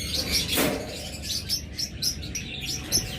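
Cockatiels chirp in a lively flurry of short, bright tweets at close range, with one sharper call near the start and steady chatter continuing throughout.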